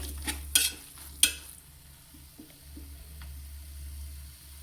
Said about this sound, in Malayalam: മസാലയായിട്ട് അതിനെ ഇളക്കി അങ്ങ് യോജിപ്പിക്കുക.